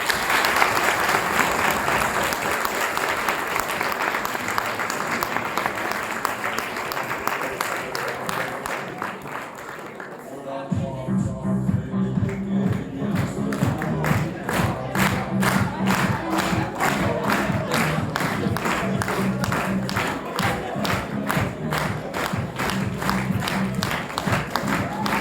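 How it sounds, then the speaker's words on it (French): Thunderous applause and cheering from an audience at an eloquence contest prize ceremony, dense crowd clapping that dips briefly midway and then returns with steady rhythmic clapping, loud and sustained throughout. "un tonnerre d'applaudissements pour Noémie"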